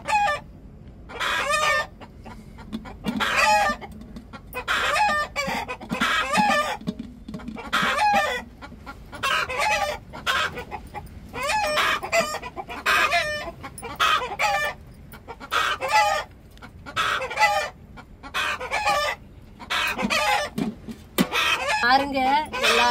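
Household chickens cluck and squawk in repeated loud bursts throughout, with rooster-like cries mixed in, close by and agitated, as a person talks between and over the calls.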